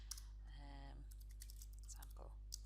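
Bursts of quick keyboard typing, soft clicking keystrokes against a steady low electrical hum, with a brief voice mixed in.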